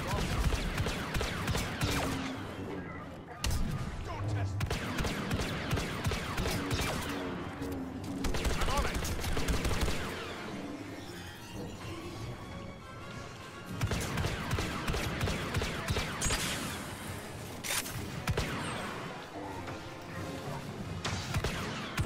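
Gunfire aimed at Vader in Star Wars Battlefront 2, rapid bursts of game weapon shots in several long stretches with short pauses between, loud and close, with a voice speaking at times.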